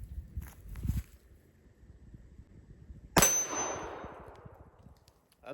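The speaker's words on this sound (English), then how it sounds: "I put a couple rounds on the gong" A .380 pistol, a Star SS, fires at a steel gong target at an outdoor range: a muffled thump, a pause, then one sharp metallic clang that rings and decays over two seconds.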